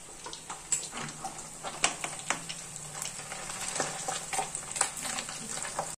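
Fish frying in oil in a pan, a steady close sizzle with scattered crackles and pops running through the whole stretch, no voices.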